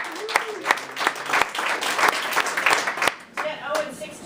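Rhythmic group clapping at a team meeting, a room full of people applauding together in a steady beat for several seconds, loud and close, then tapering off.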